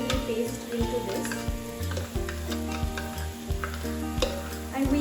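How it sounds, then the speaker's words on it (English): Grated coconut and green chili paste roasting in a pan with ginger garlic paste for Kolhapuri misal, a steady close sizzle broken by repeated scraping strokes of a spoon stirring against the pan, with no talking. "we are going to roast all of this together without any spices"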